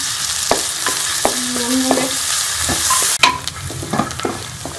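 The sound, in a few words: onions frying in ghee in a wok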